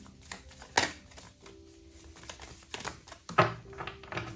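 Playing cards being shuffled in bursts of sharp riffling clatter, with a loud flurry near the start and another later as a single card pops free, close and crisp over a quiet room.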